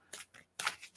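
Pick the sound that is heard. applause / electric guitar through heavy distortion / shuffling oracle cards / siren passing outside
shuffling oracle cards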